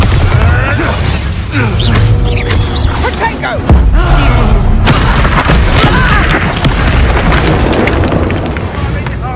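A Bombarda blasting spell from the video game Hogwarts Legacy goes off in a loud, rumbling explosion with booms, debris and creaking, heavily layered with game effects and a voice speaking throughout.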